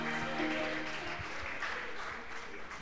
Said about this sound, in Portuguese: E as palmas engrandeçam o nome santo de Jesus